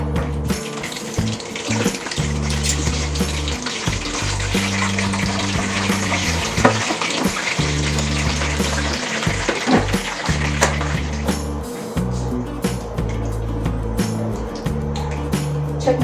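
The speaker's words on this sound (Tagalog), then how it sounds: "Kasi dapat yung lechon kawali natin deep fried po siya." Lechon kawali pork deep frying in a pan of hot oil, a steady dense sizzle with crackling pops running throughout, close and fairly loud, with low rumbling bursts and clatter underneath.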